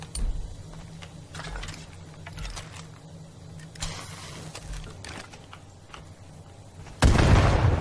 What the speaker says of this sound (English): Throw a grenade, shall we?